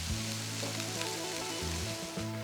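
Smash burgers sizzle and fry loudly on a grill in a continuous dense hiss, with low mechanical tones humming underneath.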